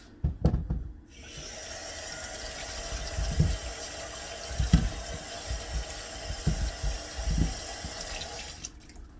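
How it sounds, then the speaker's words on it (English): Tap water runs steadily into a kitchen sink while sweet potatoes are washed, a constant close hiss broken by soft low thumps and splashes as the potatoes are handled, with no talking. "So this time I'm going to wash off the sweet potatoes."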